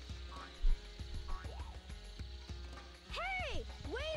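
Cartoonish frog croaks from the Sonic Adventure video game, a few boinging calls rising and falling in pitch, the loudest cluster near the end, heard over game music and background effects.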